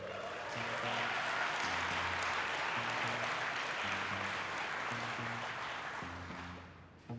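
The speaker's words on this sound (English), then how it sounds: "You're going to mess up my timing if you keep clapping." Steady, sustained clapping from a conference audience at GitHub Universe 2016 fills the room evenly and fades slightly at the end, with a faint repeating musical tone underneath.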